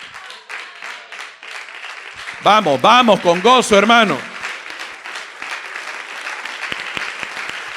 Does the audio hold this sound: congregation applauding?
yes